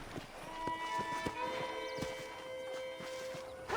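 Horse hooves clip-clop in a quick, regular rhythm on hard ground in Red Dead Redemption, close and clear over a faint ambient hum.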